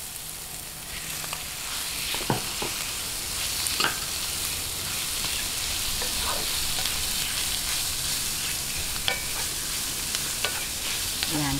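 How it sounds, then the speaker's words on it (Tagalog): Ground meat sautés in a pan for banana blossom lumpiang shanghai, with a steady close sizzle and occasional scrapes and taps of stirring throughout. "gisa-gisahin lang po natin hanggang mag-light brown yung ating giling"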